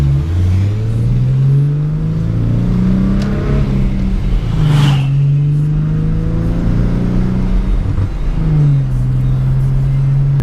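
A 2014 Ford Mustang with a manual transmission drives along, its engine droning steadily and rising and falling in pitch through gear changes, heard from inside the car without talk.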